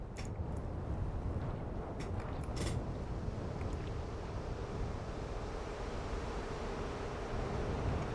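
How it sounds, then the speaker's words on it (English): Steady, roaring wind blows without pause in a video game, a dense rushing noise with a few faint creaks and clicks near the start. "Why is it so windy?"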